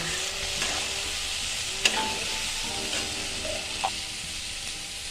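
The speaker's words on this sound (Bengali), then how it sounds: "জিরের গুঁড়ো অল্প জিরের গুঁড়ো দেব আমি সব দিয়ে আবার এটাকে নেড়ে চলে নেব" Spices with cumin powder are stirred in a frying pan for a Bengali spinach ghonto, giving a continuous close sizzle with a few sharp spoon clicks against the pan.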